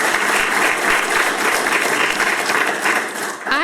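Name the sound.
audience applause for a panel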